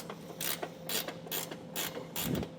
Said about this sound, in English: I'm just using a wrench like this.